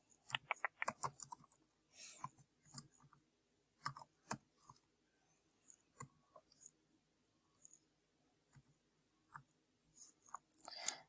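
Quiet typing on a computer keyboard, bursts of light key clicks separated by pauses, close but faint, with no talking.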